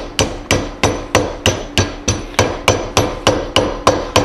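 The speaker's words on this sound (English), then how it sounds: "I'm using a soft hammer" A soft hammer strikes sheet metal being formed into a firebox for a model Kenneth Wells stationary engine, about a dozen steady evenly spaced blows, close and loud, with no speech.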